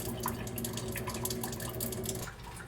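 Water runs quietly from a reverse osmosis filter faucet at a sink in a steady, faint trickle that drops off near the end.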